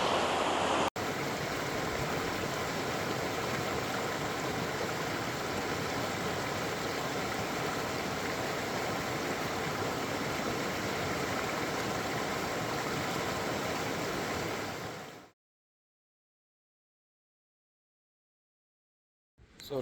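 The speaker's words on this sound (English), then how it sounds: "And I found a spot next to this river." A river runs beside a campsite, a steady, loud rushing of water that continues evenly for about fifteen seconds before cutting off to silence.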